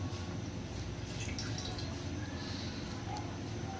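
Ghee poured into a hot kadai on the stove for makhandi halwa, 250 grams of it, makes a faint, steady liquid trickle with soft drips running without a break.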